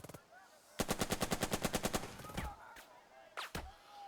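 Rapid bursts of automatic gunfire from units shooting in the tactical war game Burden of Command, a dense string of about a dozen evenly spaced loud shots followed by scattered single shots and distant crackles.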